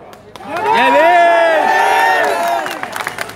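Large crowd of thousands at a political rally, a loud swelling roar of cheers and whoops that rises, holds for about two seconds and then tapers off.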